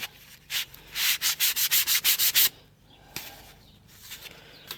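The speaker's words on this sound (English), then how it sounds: "The other way is just a piece of sandpaper and just feather the edges just a little bit." A piece of sandpaper feathers the edges of a wooden spice rack in a quick run of about ten rhythmic rubbing strokes, close and loud. Quieter handling noises follow.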